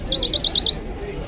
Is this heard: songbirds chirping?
yes